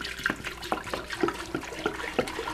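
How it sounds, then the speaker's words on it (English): A gallon of whole milk pours into a stock pot, making a steady liquid gurgle and splash with small irregular bursts, close and fairly quiet, with no voices. "So I poured my gallon of milk in here."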